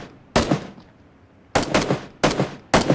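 Gunfire in the battle royale game PUBG comes in loud, close bursts, three or four quick volleys of rapid shots separated by short pauses, with no talk over it.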